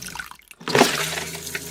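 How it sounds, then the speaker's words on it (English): A Thetford RV toilet in a motorhome flushing: after a brief near-silence, water rushes in suddenly and keeps swirling steadily, loud and close, with no talking. "Seems to flush just fine."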